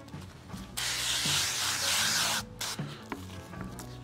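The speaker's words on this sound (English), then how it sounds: "A little bit of olive oil spray." A steady hiss of olive oil aerosol spray onto raw meat for about two seconds, close up, with soft rubbing and handling sounds before and after.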